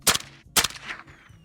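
Two sharp gunshots about half a second apart from a rifle firing Fort Scott TUI 55 grain 5.56 rounds at a target, loud and close, each with a short ringing tail.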